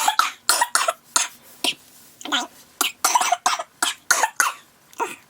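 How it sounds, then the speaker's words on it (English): A run of harsh, close coughs in rapid bursts, one after another with brief gaps, forming a prolonged coughing fit. "Okay, now that I've had a cough attack."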